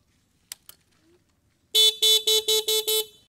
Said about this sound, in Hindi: हॉर्न सुन लो एक बारी